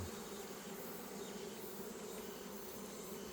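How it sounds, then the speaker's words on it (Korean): Asian honey bees swarm over hive frames in a beekeeper's apiary in Jangsu, North Jeolla, giving a steady, dense buzzing drone that holds without a break, close and even, with no voices. "아 동양종 꿀벌"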